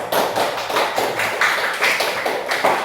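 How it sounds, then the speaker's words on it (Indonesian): A small group in a classroom claps for a presenting group, the hand claps coming in a loose, rhythmic pattern of distinct beats, close and fairly loud, lasting a few seconds. "silakan kita berikan tepuk tangan untuk kelompok"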